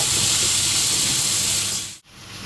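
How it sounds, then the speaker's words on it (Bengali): Ginger, whole cumin, green chili and tomato hit a hot pan for a fish curry and sizzle with a loud, steady steaming hiss close by, which cuts off abruptly near the end, then resumes. "আদা, গোটা জিরে, কাঁচা লঙ্কা আর টমেটো। এইটা আমি এখন ঢেলে দেবো। দিয়ে একটু কষাবো।"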